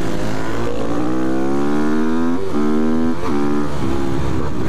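A 250 motorcycle on a race circuit revs hard and close, its engine note climbing through repeated rising sweeps with brief dips between shifts, loud and continuous.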